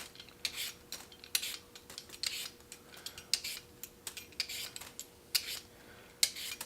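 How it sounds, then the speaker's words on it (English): Potatoes being peeled with a vegetable peeler, a series of short, close scraping rasps in an uneven rhythm, each stroke brief and crisp against a quiet kitchen background. "we're just going to go ahead and peel some potatoes here."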